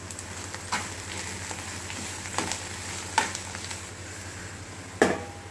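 Ponnaganti greens frying and being stirred in a pan, with a steady low sizzle broken by a few short scraping strokes of the spoon, fairly quiet and with no talking.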